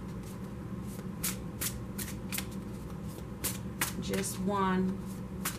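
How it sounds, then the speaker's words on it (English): Quick riffling bursts of an oracle card deck being shuffled for a tarot reading, repeated in short rhythmic flutters over a steady background hum, with a brief spoken remark. "So I'm only going to shuffle it for a moment."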